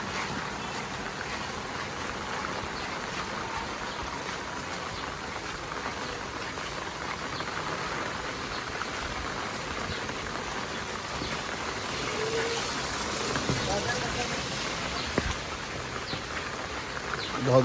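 Heavy rain pours in Shekhar Nagar, Bikrampur, a dense, steady hiss of drops on surfaces that holds at an even level and swells slightly near the end.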